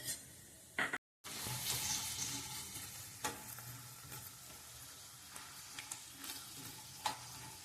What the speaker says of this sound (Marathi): तेल गरम झाले, आता आपण ह्यात आधी शेंगदाणे भाजूया